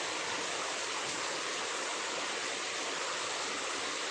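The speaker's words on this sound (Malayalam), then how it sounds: "മഴേൻ്റെ ഒച്ച കൊണ്ട് ഞാൻ പറയുന്നത് നിങ്ങൾക്ക് കേൾക്കാണ്ടിണ്ടാ?" Heavy rain pours down in a steady, dense hiss that stays even and loud throughout, with no voices over it.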